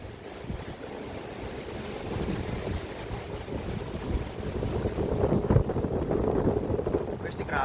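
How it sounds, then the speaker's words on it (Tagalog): Strong wind buffets the microphone in a steady low roar, with water noise beneath and a voice briefly audible near the end. "Grabe lakas ng hangin kung makikita nyo."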